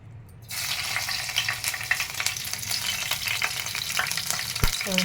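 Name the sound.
frying green chillies, chana dal and curry leaves in oil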